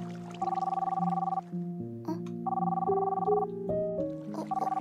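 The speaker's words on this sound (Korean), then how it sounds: "엄마한테 걱정하고 계시나봐. 전화 받아야겠다." A mobile phone plays an electronic ringtone melody in a Minecraft roleplay scene. The bright tonal phrases repeat steadily and loud at close range.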